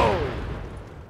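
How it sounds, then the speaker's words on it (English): A detonation in Tom Clancy's The Division lands as a single sharp, loud blast that rolls off into a long fading rumble. "You can detonate this thing?"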